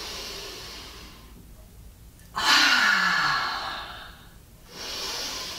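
A single strong, forceful out-breath during a gentle yoga session, a loud breathy rush that fades over about two seconds before a softer breath follows. No one speaks.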